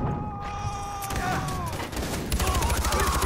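Pump shotgun gunfire in the first-person shooter Far Cry 4, several sharp blasts and bursts in quick succession amid chaotic game sounds, with faint voice and tonal effects layered beneath.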